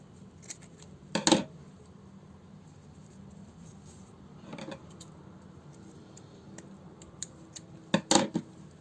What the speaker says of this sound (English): After that, we cut these long tails.